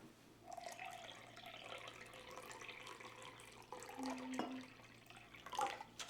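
Water runs steadily from a tap into a measuring cup, a continuous splashing trickle that fills the cup for a peach ring drink, with a brief higher clink midway and no talk.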